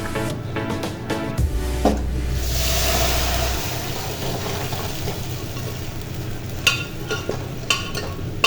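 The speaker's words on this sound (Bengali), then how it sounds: "এখন আমি নিহারিটা তেলে দিয়ে দিব।" Goat trotter nihari hits hot oil with a loud, steady sizzle that swells and then settles into a softer fry, with scraping stirs and a few utensil clinks near the end.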